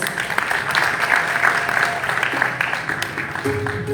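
An audience at a temple society's annual prayer event applauds award presenters, a steady wash of clapping from many hands lasting the whole stretch, loud and even, with faint voices beneath.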